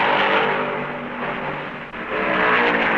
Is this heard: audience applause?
no